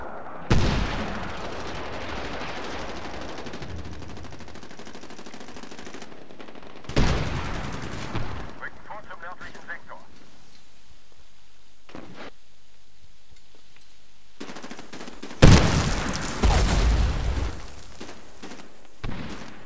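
Gunfire and explosions in the multiplayer shooter Medal of Honor Warfighter: loud bursts of shots and blasts recurring at intervals, with quieter stretches between them.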